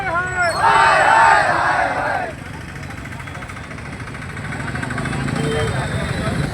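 A protest crowd at a road strike chanting slogans, loud massed voices in rhythmic shouts for about two seconds, then fading into street noise with engines and traffic rumbling in the background.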